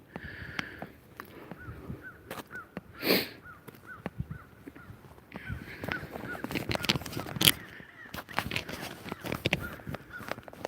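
Several crows caw in scattered bursts outdoors, some calls nearer and louder, with soft rustling and handling noise between them.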